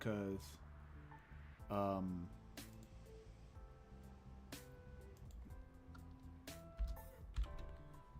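Quiet keyboard typing with scattered soft key clicks, close by, while a person talks over it.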